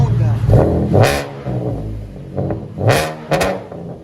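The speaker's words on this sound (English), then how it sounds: "that's the Vibrants right there. We'll let you guys hear it in a second. Chevy Camaro V6." A Chevy Camaro 3.6L V6 with Vibrant exhaust revving in several short bursts, loud and close, between people talking.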